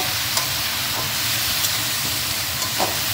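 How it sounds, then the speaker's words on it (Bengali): Spices fry with salt and turmeric in a home kitchen pan, giving a continuous moderate sizzle and hiss with occasional soft stirring knocks scattered throughout. "নুন হলুদ দিয়ে ভালো করে ভেজে"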